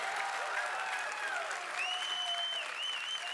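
An audience applauds at the XO19 conference, a short, steady burst of clapping from a large crowd with whistles and whoops rising over it.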